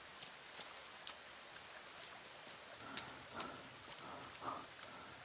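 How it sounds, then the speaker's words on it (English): Soft rain in the survival video game The Forest falls faintly and steadily, with occasional sharper drip splashes sounding through the quiet hiss. "It's raining, that's why it's going out."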